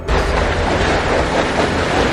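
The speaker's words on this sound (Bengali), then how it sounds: "যাক, ট্রেনটা তাহলে টাইম মতোই ছেড়েছে।" A cartoon train pulls away from the station in a dense, loud, steady rumble that fills the whole moment, with no voices.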